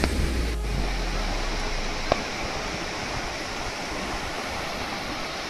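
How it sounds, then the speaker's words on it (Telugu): Sea waves at Chirala Beach make a broad, constant wash of surf, with one brief tap partway through and no voices. "ముందల ప్రశాంతమైన సముద్రం"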